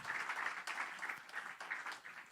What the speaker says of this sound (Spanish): ¿Cuántos golpeamos las palmas y damos un aplauso?